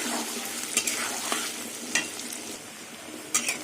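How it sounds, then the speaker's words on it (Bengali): Boiled potatoes with turmeric fry until browned, a bright continuous sizzle close by with occasional crackling bursts of spattering oil and no talking. "আলুটা লাল লাল করে ভাজবো"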